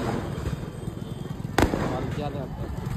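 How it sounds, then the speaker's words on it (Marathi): Firecrackers going off at a village palanquin procession, with one sharp loud bang standing out midway over steady crowd noise and background chatter. "फटाके वाजता"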